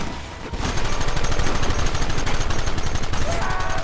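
Rapid, loud gunfire in the Red Dead Redemption video game, a dense stream of sharp shots that begins after a brief quieter opening and continues steadily to the end.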